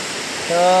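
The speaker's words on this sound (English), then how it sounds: "So, there's the waterfall." Water crashes steadily down a waterfall in an Alberta canyon, a dense rushing roar with no break, joined halfway through by a faint steady tonal hum.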